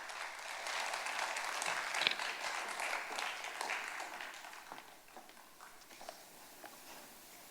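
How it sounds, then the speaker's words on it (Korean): Applause from a church congregation at a Korean Sunday praise service, a steady wash of many hands clapping that fades gradually toward the end. "박수로 환영하겠습니다"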